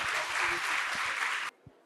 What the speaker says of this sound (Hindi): तालियों की अनुमोदना के साथ आमंत्रित करेंगे।